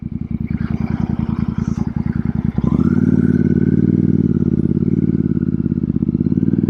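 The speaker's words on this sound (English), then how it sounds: "This bike in stock form, it's a 650 parallel twin" A Royal Enfield Super Meteor 650 parallel-twin motorcycle with a belt drive thumps with a rapid, even idle pulse, then pulls away with a loud, steady engine roar that rises and holds.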